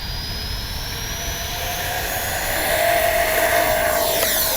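An FMS Avanti S 70mm RC jet taking off on a windless day gives a loud, steady close-up roar with a high whine that rises and swells as the engine spools up.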